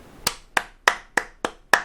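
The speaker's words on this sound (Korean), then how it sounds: "박수." Six sharp hand claps in a steady, evenly spaced rhythm, close and crisp, with no talking.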